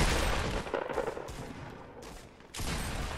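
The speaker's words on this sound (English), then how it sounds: "Oh, he's shooting. This one's shooting." Rapid gunfire crackles in a video game, dense bursts close and loud that pause briefly before another burst resumes near the end.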